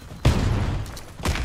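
A grenade blast and gunfire in the shooter game Warface hit as two loud, sharp bursts about a second apart, each trailing into a rough rumble at close range, with no voices.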